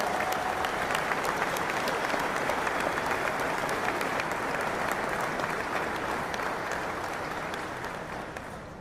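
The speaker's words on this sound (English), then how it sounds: "Give those guys a round of applause." A crowd applauds city workers at a Gadsden industry announcement, a broad wash of steady clapping that stays level and then eases off slightly toward the end.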